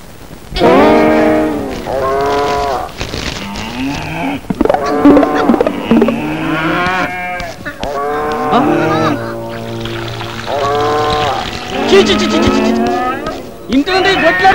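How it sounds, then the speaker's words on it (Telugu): Buffaloes low repeatedly in drawn-out, loud moos that follow one another for the whole stretch, with voices mixed in around them. "ఇదేంటయ్యా సెంటు నొక్కుతుంటే బర్రెల సౌండ్ వస్తుంది?"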